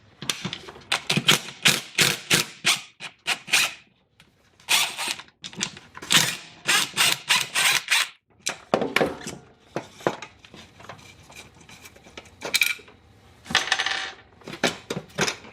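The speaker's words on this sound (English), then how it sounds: "We've got 2 screws in there holding this on the wall. Take those off next." Screws are backed out of a metal outlet box mounted on a garage wall, with dense runs of quick metallic clicking and ticking close to the listener, broken by short pauses and with no talk.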